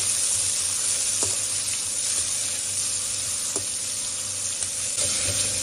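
Onions sauté steadily in hot oil with a constant crackling hiss, cooking toward brown, broken by a few faint scraping stirs, with no voices.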